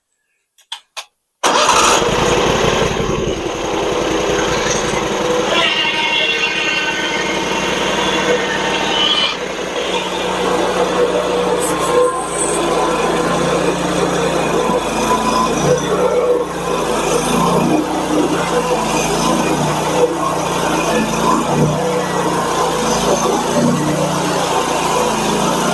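A portable sawmill engine runs steadily and loudly for the whole stretch after a brief start, with an uneven, rough sputter running through the drone as it starves with the fuel turned off, cutting Ambrosia maple.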